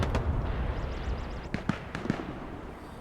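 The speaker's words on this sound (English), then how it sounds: "This does look like that was a Axis bombing run to try to clear out the point and get the guys inside the courtyard" Axis bombing run in a World War II shooter: a rumbling barrage followed by several sharp, close explosive bursts in quick succession, loud over a dense low rumble.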